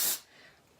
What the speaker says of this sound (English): So I might put a little bit of texture spray in here.